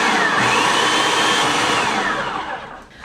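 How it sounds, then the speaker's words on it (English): Food processor whirring at full speed as it blends grain-free pumpkin pie filling, a loud, steady motor whine held for about three seconds before it winds down near the end, no voices. "So I'm just gonna process this for about 30 seconds and get it all good and blended up."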